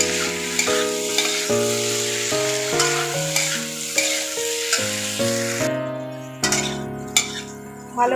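Jackfruit and potato chunks with spices sautéing in a pan, with continuous sizzling and the scrape and clink of a stirring spoon under steady background music.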